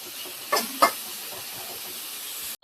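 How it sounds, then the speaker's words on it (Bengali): Carrots fry in a pan with a steady, close sizzling hiss, two short louder crackling bursts near the start, then an abrupt cut at the end. "তো গাজরটাকে দিয়ে এখন একটু ভেজে নিব।"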